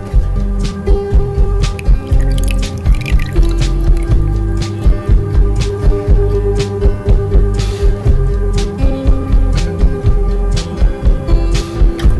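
Water is poured off the top of settled ginger juice, giving soft trickling and dripping with brief wet splashes over a steady tonal hum.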